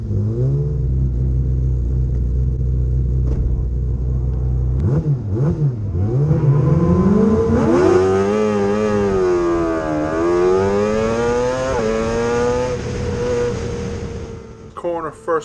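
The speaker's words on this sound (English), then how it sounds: "Riding with Peter Vans and Jevon Wormsley as they make their way to the front of the grid for the start of race one." F2 racing sidecar engines idle low at Anglesey circuit on the grid before a race start, then rev up in rising and falling wails that climb high, loud and close, with a commentator talking over them.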